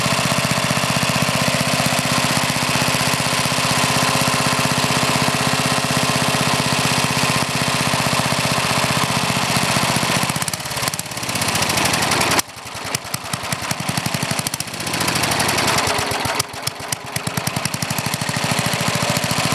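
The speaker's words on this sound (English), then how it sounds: "as soon as you give it throttle, it starts chugging black smoke, running too rich, trying to flood out" A Briggs and Stratton small engine with a one-piece Flo-Jet carburetor, running too rich, roars loudly and steadily at close range, then chugs and stumbles unevenly when throttled, with choppy bursts toward the end.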